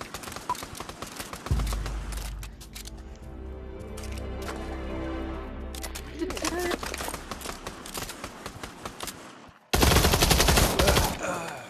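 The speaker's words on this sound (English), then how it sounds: "Why are y'all shooting at the end of the bridge?" Rapid gunfire rattles in the VR shooter Pavlov, with bursts and sustained automatic fire echoing across a bridge, ending in a loud dense volley, while players talk and shout throughout.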